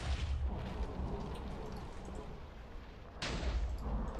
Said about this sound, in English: it's supposed to create a large enough explosion that it will actually kill the blocks around it